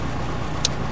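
Cessna 172 piston engine idling on the ground in the P3D flight simulator, a steady low drone held evenly throughout, with a brief faint click near the end and no talk.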